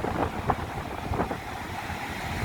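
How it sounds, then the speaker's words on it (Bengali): Strong wind buffets the microphone on an empty seashore, a steady rushing roar with gusty swells and a faint wash of surf beneath, no voices. "প্রচণ্ড হাওয়া চলছে"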